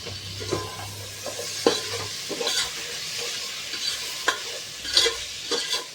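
Tomatoes and a spoonful of curd sautéing for chicken biryani: a steady sizzle with repeated scraping spoon strokes against the pan, and a low hum in the first two seconds, no voices.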